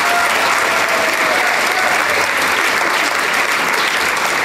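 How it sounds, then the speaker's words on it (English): Conference audience in Queensland applauding: dense, steady clapping from a large crowd filling the room, loud and continuous throughout without letting up. "So give yourselves a round of applause."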